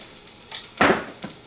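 Onion hitting hot olive oil in a pan for a mushroom and pork risotto, with a sudden loud sizzling burst under a steady background frying hiss, alone without talk.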